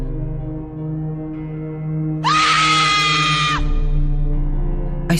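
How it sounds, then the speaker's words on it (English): A woman's high, piercing scream of fear rings out loudly for over a second over a droning musical background, then cuts off as the low tones continue. "I screamed, my voice a mix of fear and anger"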